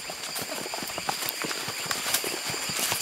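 Horse hooves clip-clopping in a steady, quick rhythm on a forest ride in Bolivia, fairly close, over a constant hiss of background noise.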